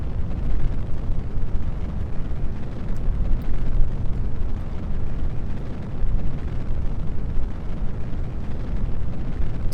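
A rocket stage engine burns in Kerbal Space Program, a loud continuous roaring rumble heavy in the low end, sustained without a break throughout, with no voices.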